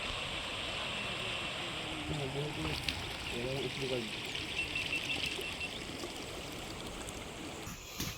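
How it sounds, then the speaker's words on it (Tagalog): The Agus River flowing past farmland with coconut trees: a steady, broadband rush of moving water heard from a distance, with people talking over it. "Yan po ang Agus River."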